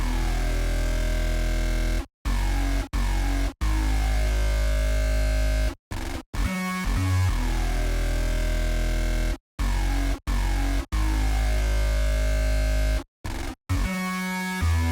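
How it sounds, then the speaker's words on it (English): A grungy, distorted BA Growl bass synth from Spire plays in loud sustained bursts separated by sharp gaps, with harsh buzzing overtones and a thick low end; later notes jump up an octave. "The next bass synth I found was this really grungy synth."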